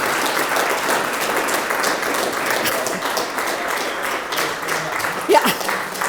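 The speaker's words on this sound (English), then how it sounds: "Please join me in giving a warm round of applause for Midwest One as we stand and recognize." Audience applause for a sponsor at a morning community program, steady sustained clapping from a seated crowd filling the whole stretch at even loudness, with a brief louder burst near the end.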